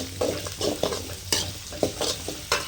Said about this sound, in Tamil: கடுகு வந்து பொரியிறது